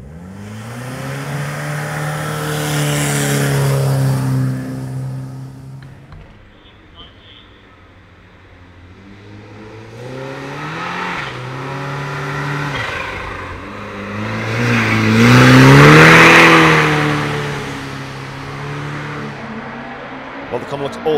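Cars at the RetroRides Gathering 2021 hill climb rev and accelerate up the hill, engines rising and falling in pitch in repeated waves, one loud pass building to a peak near the middle-late stretch.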